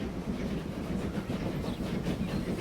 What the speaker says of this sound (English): It's a passenger train.